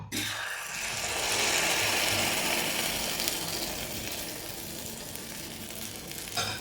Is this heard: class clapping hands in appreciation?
no